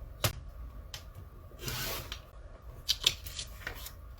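Scissors trim quilting fabric in a few short snips and rustles, close and fairly quiet, with the fabric shifting between cuts.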